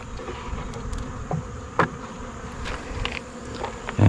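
A steady, dense buzzing of many honey bees at a Layens hive close by, a continuous insect drone with occasional louder passes of individual bees near the microphone.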